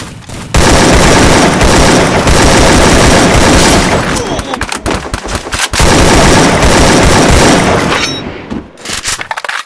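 Sniper rifle fire in a shooting video game, loud, dense bursts of shots and booms in close succession, with brief gaps, layered over game noise.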